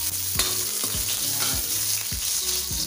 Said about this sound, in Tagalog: igigisa ko muna itong onion